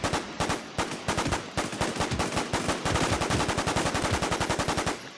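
Sustained bursts of automatic gunfire in the survival shooter WarZ, loud and close, rattling off in rapid repeated volleys for several seconds with almost no talking.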